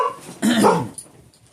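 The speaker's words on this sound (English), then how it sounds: "I heard a dog." A single dog bark, fairly loud and close, a short rough burst followed by a fading tail in a quiet indoor space.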